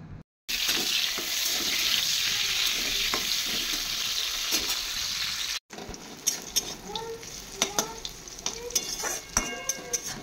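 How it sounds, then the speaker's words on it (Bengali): Pointed gourd and bitter gourd frying in a home kitchen pan, a steady loud sizzle with occasional stirring scrapes, followed after a short break by quieter crackling and utensil clinks. "এখন করছি হচ্ছে পটল আর উচ্ছে ভাজা"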